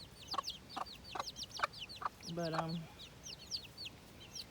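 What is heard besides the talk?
chickens clucking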